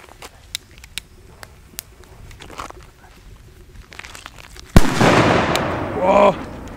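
A Polish firecracker goes off with one sudden, loud bang after several quiet seconds, followed by a long, roaring, crackling rumble that slowly fades outdoors.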